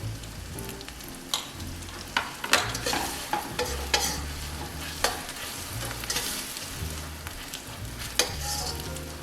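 Crab meat stir-fried slowly in a wok, a continuous sizzle with repeated scraping and tapping of the spatula against the metal at an uneven rhythm, close and without talk.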